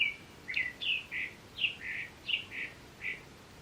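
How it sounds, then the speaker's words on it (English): A loud bird outdoors chirps in a steady run of about nine short, bright calls, each separated by a brief pause, with no other sound competing. "We've had like a really loud bird outside."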